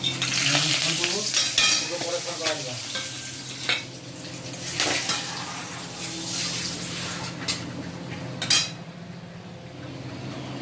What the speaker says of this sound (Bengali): এখন আমি শুকনো লঙ্কা, তেজপাতা আর হচ্ছে গরম মশলা দিয়ে দেবো, তেলে দিয়ে দেবো